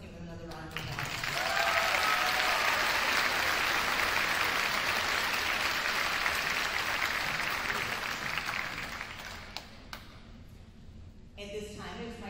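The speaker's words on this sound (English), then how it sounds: "let's give him another round of applause." Graduation audience at a North Fond du Lac High School ceremony applauding, a dense sustained wash of clapping that swells and holds for about nine seconds before fading, with a brief renewed patter at the end.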